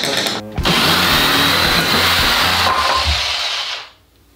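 A power saw cuts through wooden beams, trimming them to height while building a homemade casino slot machine cabinet; loud, steady whining roar close by that runs for about three seconds before cutting off, with no talk.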